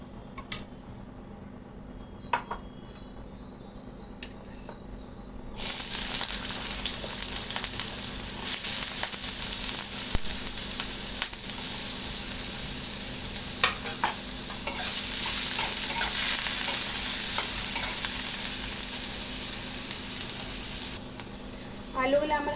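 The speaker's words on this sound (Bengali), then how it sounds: "কড়াইতে আমি 1 থেকে 2 চামচ তেল দিয়ে দেবো আলুগুলা ফ্রাই করার জন্য" Potatoes fry in one to two spoons of oil in a wok, a steady bright sizzle that rises after a quiet start, with scraping and stirring of a utensil against the pan throughout.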